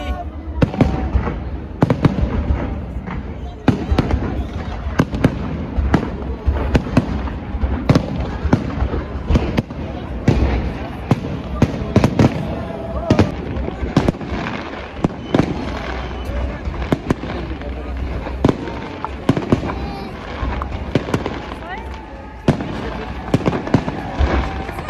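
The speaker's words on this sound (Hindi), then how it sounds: "काफी एक्साइटमेंट है और बैक टू बैक पटाखे चले आ रहे हैं।" New Year's Eve fireworks at the Arc de Triomphe in Paris, loud rapid back-to-back bangs and crackling bursts filling the whole span, with a cheering crowd and voices talking underneath.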